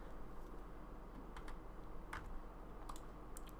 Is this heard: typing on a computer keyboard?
yes